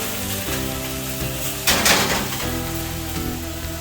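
Pork, already fully cooked, searing in a hot pan with a steady sizzle and a louder hissing burst midway as the meat settles, heard close up with no talking.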